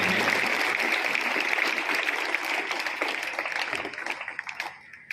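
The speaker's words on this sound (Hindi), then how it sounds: "एक बार जोरदार तालियों से स्वागत करेंगे।" A crowd at a police official's welcome event in India claps loudly and steadily, a thick wash of applause that holds for several seconds before thinning out and tapering near the end.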